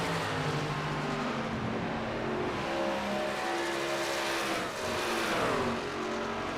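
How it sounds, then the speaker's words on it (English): A racing truck engine in a video game truck series race at Charlotte drones steadily and loudly, its tone dropping and easing as the driver lifts off the throttle into a corner. "he's shutting that truck off, getting into the corner"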